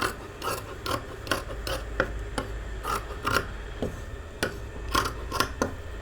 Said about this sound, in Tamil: இப்போ வந்து இந்த வேஸ்ட்டாக இருக்க பீஸை வெட்டிக்கலாம்